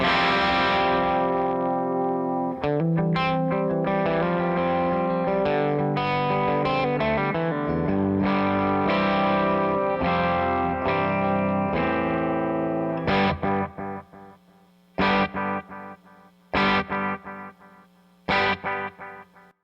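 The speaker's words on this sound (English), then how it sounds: "by controlling the volume on my guitar, I'm also controlling the mix of the delay" Electric guitar notes ring out with a delay effect, repeats trailing each phrase; later, sparse chords played with the guitar's volume turned down stop short with brief pauses between them.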